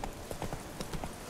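Roach, the horse in The Witcher 3, trots with quick, close clip-clop hoofbeats in an uneven rhythm across a brief moment.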